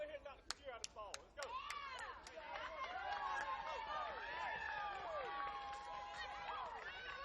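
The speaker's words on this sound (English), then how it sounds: "From the round of applause" Applause and cheering from the crowd at a youth AAA baseball championship game swell into steady clapping, with whistles and excited shouts rising over it at a moderate distance.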